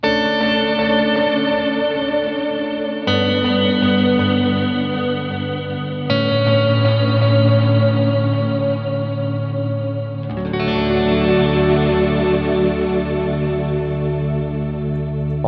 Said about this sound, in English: When running reverb into delay, you can actually get away with much higher reverb mix and decay settings